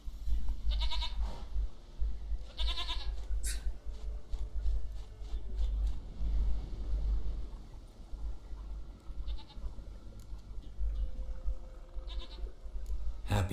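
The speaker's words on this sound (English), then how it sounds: "Goat of mine, dearest," A goat in The Witcher 3 bleats several times in short, quavering bursts over a low ambient rumble, the calls spaced out across the scene and fairly close.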